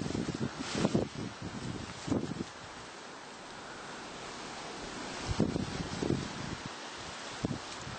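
Night wind gusts through a tree and bushes outdoors, with soft rustling bursts and microphone buffeting that swell, fade to a quiet lull, then rise again.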